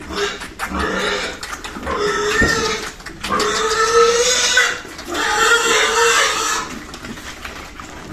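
Piglets bought for lechon, half-white crossbred littermates from a large native sow, grunting and squealing in steady overlapping bursts close by, with some farm fowl clucking in the background.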